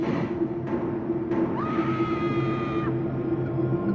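A sharp human scream in a horror story narration, a sustained shrill cry rising then held for about a second and a half over a steady background drone, loud and close.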